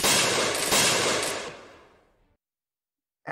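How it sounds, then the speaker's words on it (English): Gunfire in a staged pirate audio drama: a loud, close burst of rapid shots that blurs into one roar, then fades quickly into silence. "There were a few shots."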